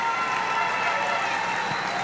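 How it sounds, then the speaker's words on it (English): A carnival queen show crowd applauds the seven delegates, a steady wash of clapping and cheering that holds evenly throughout the short stretch. "another round of applause for them"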